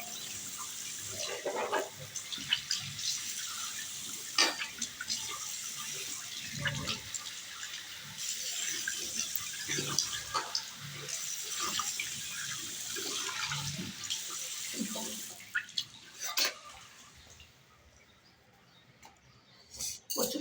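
Cold water runs from a tap while someone washes their face, a steady splashing rush with intermittent louder splashes and handfuls of water, close by, tapering off near the end.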